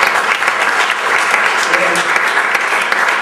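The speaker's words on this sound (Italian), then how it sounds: "E poi Massimo Benini, un applauso" Strong, close applause from an audience at a music industry conference in Bologna, a thick continuous burst of clapping throughout with some voices mixed in.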